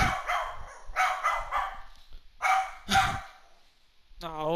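Close, loud barking from a dog placed next to the microphone, a few sharp bursts in quick clusters, ending as a voice begins to speak.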